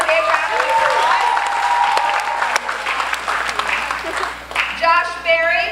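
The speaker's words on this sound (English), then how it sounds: "Give him a big round of applause." A crowd applauds for a baseball first baseman introduced as a guest at a Citi Field kids program, steady clapping throughout with a voice talking over it.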